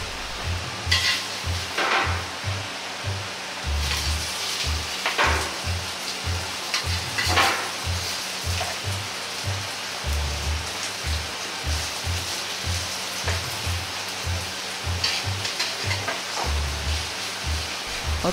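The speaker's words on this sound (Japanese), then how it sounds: "肉を1枚ずつ入れ、鍋に広げていきます。" Thin floured slices of pork fillet frying in a tablespoon of oil in a pan, a steady soft crackle and sizzle with repeated light rhythmic knocks running through, no voices.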